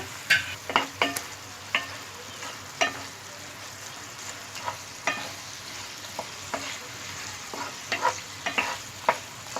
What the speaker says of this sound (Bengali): এখন আমি আবার এভাবে একটু নেড়ে চেড়ে নিচ্ছি